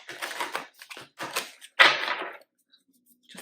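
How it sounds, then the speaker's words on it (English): A deck of oracle cards being shuffled by hand: several short papery riffling bursts, then one louder, longer riffle before it goes quiet, heard close up. "I'm gonna shuffle this again."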